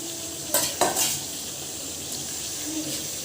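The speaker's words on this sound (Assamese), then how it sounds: "এতিয়া মই ভাজি থৈ দিয়া আলুখিনি দি দিলোঁ" Fried potatoes tumble into a pot of chicken pulao broth with two quick clattering thuds and a splash, followed by a soft steady simmering hiss and faint utensil clinks.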